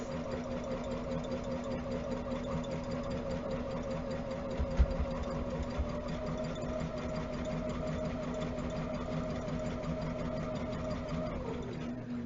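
A sewing machine set to a straight stitch runs continuously while chain piecing quilt blocks, giving a steady, even mechanical hum with a faint rhythmic knock that holds close and constant throughout.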